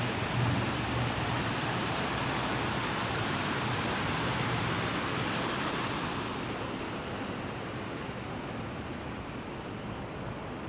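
A water feature splashes in Main Street Square, Rapid City, South Dakota, producing a loud, continuous rushing wash that eases slightly partway through. No voices are heard.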